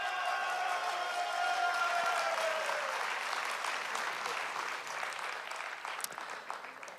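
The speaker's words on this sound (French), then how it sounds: "Anne Villemain, vous pouvez l'applaudir." Closing-ceremony audience at the Gérardmer fantastic film festival bursts into sustained applause, a dense, steady wash of clapping that holds strong throughout and tapers slightly toward the end.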